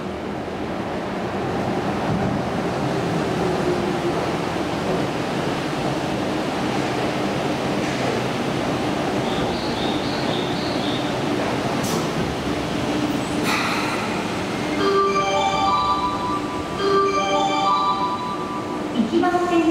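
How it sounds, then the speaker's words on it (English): A Yurikamome 7000 series automated guideway train rumbles and hisses into the platform at Toyosu station, Tokyo, with a steady low roar, brief electronic chimes and tonal announcement beeps toward the end. "The train arriving shortly at platform 2 is a return service"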